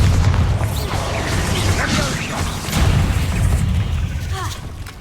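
The Bombarda blasting spell goes off in the video game Hogwarts Legacy with heavy, rumbling booms and crashing debris, loud and close, the low impacts rolling across several seconds with magical whooshing swirls above.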